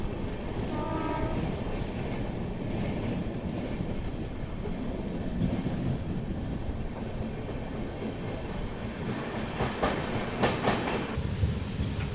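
The Deccan Queen Express rumbles along the rails with a continuous low roar and faint rhythmic clatter, steady throughout with no talking.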